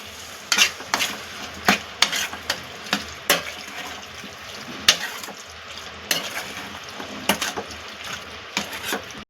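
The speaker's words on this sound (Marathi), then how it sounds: "आता आपण ही पूर्ण मसाल्यामध्ये व्यवस्थित परतून घेऊया" Vajdi (goat offal) frying in a spicy masala in a pan, with a steady sizzle broken by repeated sharp scrapes and clatters of a spatula stirring at close range, no voices.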